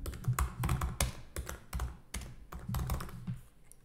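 Typing on a computer keyboard, a run of quick clicking keystrokes in short irregular bursts, close and clear, with no talk.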